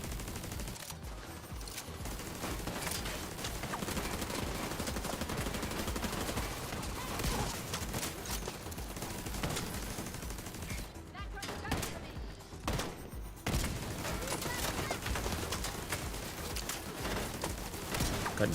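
Sustained rapid gunfire from The Division 2 rattles on almost without pause, dense automatic bursts filling the scene with brief gaps near the middle, and a voice occasionally under the shooting.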